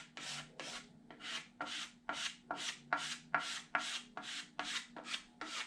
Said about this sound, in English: Actually, I should scrape first before I continue, because I don't want this to really dry.